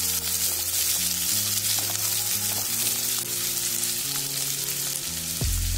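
Sliced onions fry in hot oil with dried red chillies in a pan for a Bengali fish curry, a continuous close sizzle that runs throughout with steady music playing underneath.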